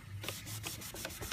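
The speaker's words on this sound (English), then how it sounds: "I'm going to take it and I'm going to rub it with the grain of" Steel wool rubs along the grain of painted wood to buff off marks. Close, rhythmic scratchy strokes repeat back and forth at an even pace with no talking.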